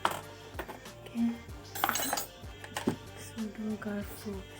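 Metal spoons and forks clink and rattle against each other in a kitchen as they are put away, a few sharp close clatters and jingles scattered over several seconds.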